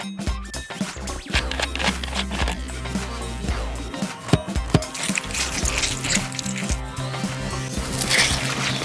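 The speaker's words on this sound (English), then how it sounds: "Just pour in your cleaning solution of choice." Cleaning solution is poured into a toilet brush's built-in dispenser, with a steady trickling, sloshing liquid sound and some plastic handling clicks, loud and close.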